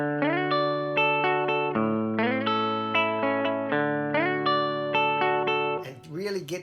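Electric guitar plays a classic riff, picked with a fingernail through effects: a bright repeating melodic figure with sliding notes, close and clear, ending in a short burst of other sound.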